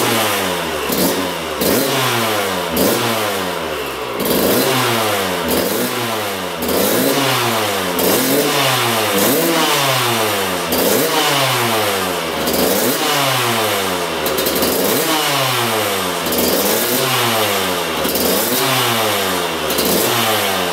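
A smoking 2-stroke dirt bike engine runs close and loud, with a steady, rhythmic rise and fall in pitch as it revs about every second and a half, never settling into a quiet idle.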